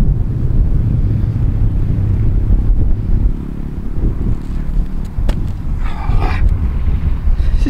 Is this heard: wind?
yes